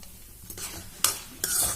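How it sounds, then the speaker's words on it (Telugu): Sun-dried drumstick chitti vadiyalu fritters fry in hot oil until brown, a soft sizzle under three sharp scraping stirs of a spoon against the pan. "ఈ చిట్టి వడియాలు అనేవి ఇలా వేయించుకోవాలండి. బ్రౌన్ కలర్లో వచ్చేంత వరకు వేయించాలి."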